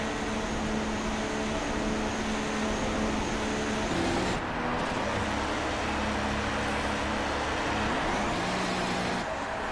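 A Formula 3 car in a racing game rolls through the pit lane at Abu Dhabi, a steady, muffled engine drone with a constant hum, no speech over it.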